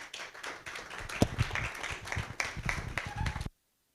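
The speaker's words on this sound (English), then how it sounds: "Another round of applause for" Audience members at a panel session on health and politics in Nigeria clap for a few seconds, a modest, fairly close round of hands with scattered sharp claps, ending abruptly in silence.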